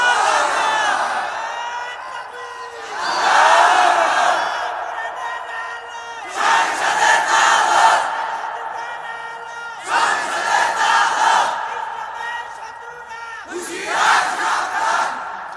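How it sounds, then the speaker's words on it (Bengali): A large crowd at an Islamic sermon roaring takbir in unison, four long swelling shouts separated by short pauses, loud and echoing. "একজন যুবক দাঁড়িয়ে তাকবীর দাও, সব ঠিক হয়ে যাবে।"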